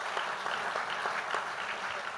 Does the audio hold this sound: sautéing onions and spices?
no